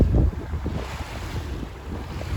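A sailboat motoring under engine in calm, windless conditions near the Strait of Gibraltar, with a steady low rumble mixed with wind buffeting on the microphone and wash of water, continuous and close throughout.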